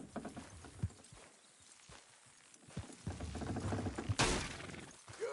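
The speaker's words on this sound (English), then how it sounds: "Horses will pull it clean down." Team of horses in Red Dead Redemption 2 hauling a structure down, with irregular hoof clops and scraping thuds, building to a loud crash of strain and collapse near the end.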